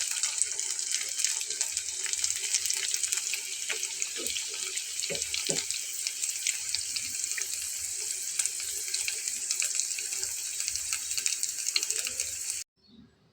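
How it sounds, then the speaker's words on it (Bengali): A second batch of potato crunchy balls deep-fries in hot oil, giving a continuous, even hiss that stays close and steady before cutting off at the end. "এখানে দ্বিতীয় ব্যাচটা ভাজা হচ্ছে, এটাও প্রায় হয়ে যাচ্ছে।"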